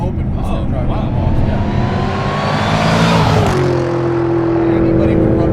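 A modified 2007 Saleen S281 Extreme V8 revs hard and loud up to a high peak, then drops back to a rumbling idle, with voices talking close by throughout.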